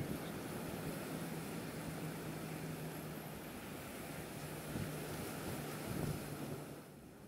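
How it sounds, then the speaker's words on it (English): Small ocean waves of one to two feet wash onto a beach in a steady, continuous surf roar, with wind buffeting the microphone throughout. "The waves is about like 1 to 2 foot tops."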